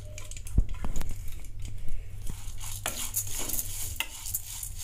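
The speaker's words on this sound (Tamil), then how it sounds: "அதனால லோ ஃப்ளேம் வச்சு வறுத்துக்கலாம்" Moong dal dry roasting in a pan over a low flame, dry grains rustling and scraping as they are stirred, with a few sharp knocks of the spoon against the pan, close and steady.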